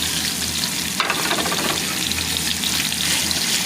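Small cut chicken pieces fry in a hot pan for a Manchurian bread roll filling, giving a loud, steady sizzle throughout, with a brief stir or scrape about a second in.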